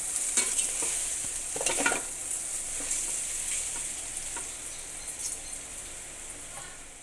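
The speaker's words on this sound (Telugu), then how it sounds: "ఒకసారి దీన్ని బాగా కలిపేసుకుందాం" A spoon stirs tamarind fish curry masala (katta chepalu pulusu) in a hot pan, with soft scraping strokes and a low sizzle under them, close up and without talk.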